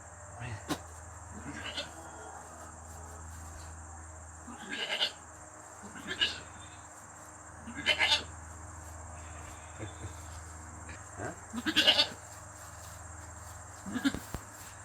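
A young goat kid on a farm bleats in short, sharp calls that repeat every second or two, standing out over a constant high insect chirr in the background.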